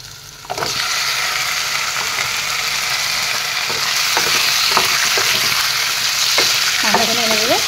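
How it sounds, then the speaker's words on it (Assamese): 500 grams of chicken pieces sizzling loudly in a pan with softened onions for a chicken curry, with steady frying hiss and repeated scraping clinks of a spoon stirring the meat. "মাংসখিনি এনেদৰে তলপৰ কৰি লৰাই দিছোঁ।"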